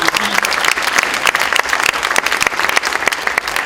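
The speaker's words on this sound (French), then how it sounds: "On peut l'applaudir en effet." Audience applause at the closing ceremony of the FIG 2015 festival, a continuous, lively clatter of many hands clapping at close range with no talk over it.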